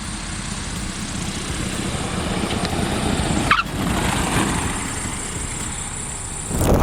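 A Piper Archer DX four-seater light plane running its Jet A diesel engine gives a steady, loud broadband drone that holds throughout, with a brief shift midway and a swell at the very end.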